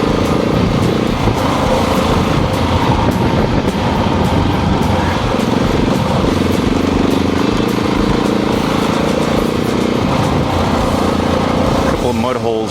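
KTM 690 single-cylinder motorcycle with Rade Garage upgrades in a light adventure build, ridden offroad: a steady, loud, close engine drone with throttle variations throughout, under wind and rough terrain noise.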